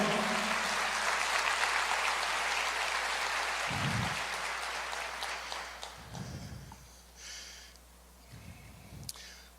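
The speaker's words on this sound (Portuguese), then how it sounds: "Pode aplaudir." A church congregation breaks into applause during a sermon, a broad hiss of clapping that is loudest at the start and gradually fades away, with a few low thumps and murmurs as it dies down.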